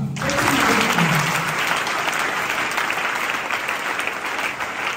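A church congregation bursts into loud, dense applause that starts abruptly and holds steady for several seconds.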